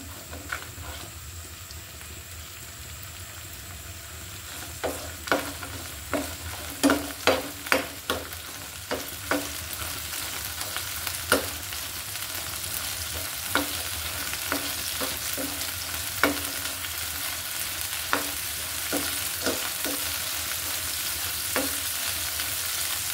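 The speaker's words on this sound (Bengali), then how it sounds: "সাথে শুকনো মরিচও দিলাম, এগুলো হালকা ভেজে নিতে হবে।" Dried red chillies and chopped garlic fry lightly in hot oil for lemon kaji, with repeated clicks and scrapes of a spoon stirring through a steady, close sizzle.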